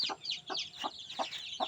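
Fourteen backyard chicks cheeping up close, a steady run of high peeps over soft, rhythmic lower clucks repeating about every third of a second, no talking.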